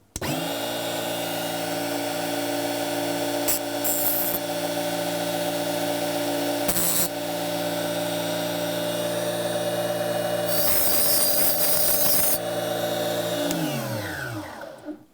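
A power tool runs continuously with a high whirring drone while a Tigers Teeth sharpener works a multi-tool blade, with a few bursts of harsher grinding hiss before the motor spins down at the end.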